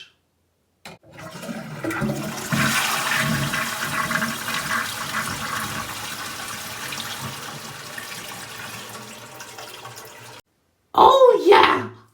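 A household toilet flushes with a long, loud rush of swirling water lasting several seconds, then cuts off before a short, loud burst of sound at the end.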